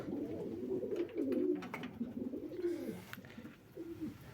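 Soft, low coos from tumbler pigeons repeat in a gentle rolling rhythm, close by, with faint rustling and shuffling in between.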